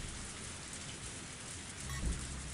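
Steady rain falling through the night in a rural Japanese village, a dense even hiss throughout with a slightly heavier, closer patter near the end.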